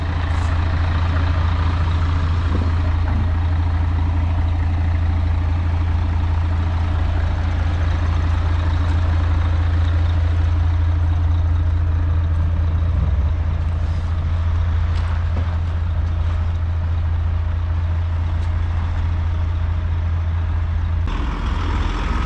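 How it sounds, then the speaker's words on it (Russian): A Mercedes-Benz truck's diesel engine runs steadily with a deep, constant drone, nearby and loud, and shifts slightly near the end as the truck drives off; no talking. "Бенц поехал."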